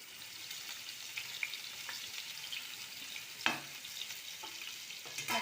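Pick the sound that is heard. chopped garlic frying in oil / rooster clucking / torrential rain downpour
chopped garlic frying in oil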